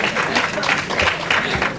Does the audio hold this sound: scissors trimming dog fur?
no